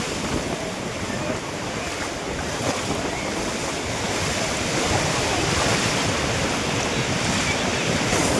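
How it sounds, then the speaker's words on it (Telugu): Sea waves breaking on Bapatla beach in a constant loud rushing roar, with wind buffeting the microphone and the surf swelling slightly toward the end. "అలలు మాత్రం వచ్చేది వస్తుంది"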